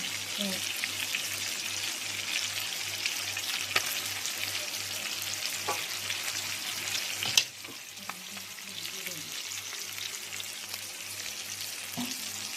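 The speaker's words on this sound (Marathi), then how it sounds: "आता हा बागडा या ठिकाणी तव्यावर फ्राय होतो आहे." Fish frying on a flat tava griddle, a continuous crackling sizzle heard close up with a low rhythmic hum beneath it, one sharp clink partway through, and the sizzle easing slightly afterward.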